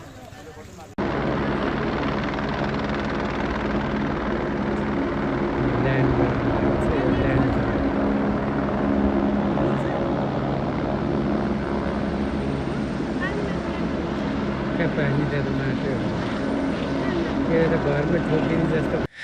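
Helicopters flying over flood-hit Kathmandu during a rescue operation, a steady loud rotor drone with engine roar running continuously throughout, with voices faintly present beneath.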